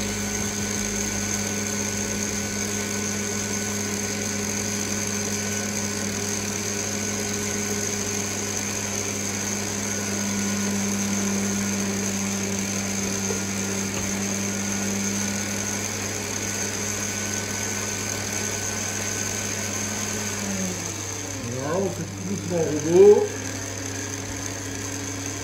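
A stand mixer churns cookie dough with a steady, even motor hum that runs throughout, ending with a few brief wobbling clatters near the end.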